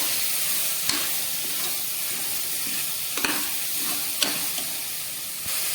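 Turmeric stirred into a curry in a pan, a steady soft sizzle with occasional spoon scrapes and clinks against the metal, close and continuous, no voices.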